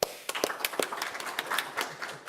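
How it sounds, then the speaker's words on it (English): An audience at a programming-languages conference workshop claps in a brief round of applause, a dense patter of hand claps from a modest crowd in a room, with no voice over it. "So, round of applause."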